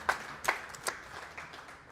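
A church congregation claps a few times, three sharp, scattered claps spaced about a beat apart, faint and echoing in a large worship space, with no steady applause building up.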